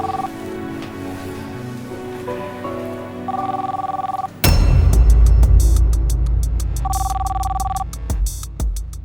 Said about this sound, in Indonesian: Pak Raymond telepon.